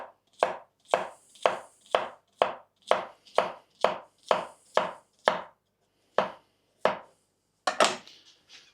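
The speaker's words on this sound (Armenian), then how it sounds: "մեզի հարկավոր է կտրատենք բանջարեղեններից վարունգ" A knife chops through cucumber in a quick, even run of about eleven crisp, close strokes, then slows to a few spaced cuts with pauses between them.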